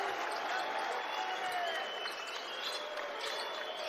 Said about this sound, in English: listen to this crowd. They're on their feet with still 7 minutes to go in the title game.